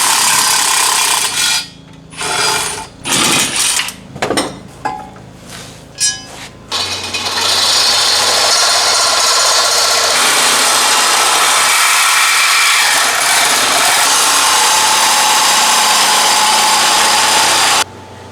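Hole saw boring through a metal tube for a manifold: a few short bursts of power-tool whine with pauses, then a long, loud, steady grinding cut that stops abruptly near the end.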